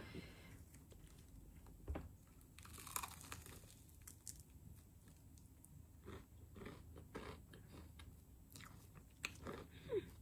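Someone eats Puringkle fried chicken up close, with crunchy bites, wet chewing and crinkling packaging in an irregular rhythm, quiet but near, with occasional soft talking.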